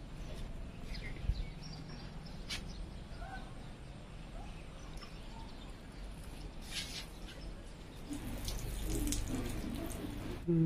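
Water pours steadily from a waterfall into a village swimming pool, a constant soft rush that swells louder near the end.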